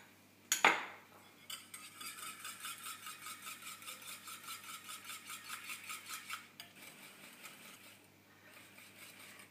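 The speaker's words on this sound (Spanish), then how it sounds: "le voy a ir incorporando poco a poco la harina, poco a poco, y lo vamos a ir mezclando" Flour being gradually whisked into a batter for honey-drizzled fried eggplant, heard as a quick, steady rhythmic clatter of a utensil against a bowl after an initial knock, running for several seconds before easing off, with no talking.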